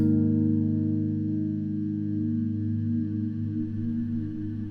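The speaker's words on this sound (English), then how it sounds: "the other decay will fade in," Guitar played through a Klowra Limbo reverb pedal, a second reverb swelling in over sustained chords; the tone is dense and washy, steady and fairly loud with no voice.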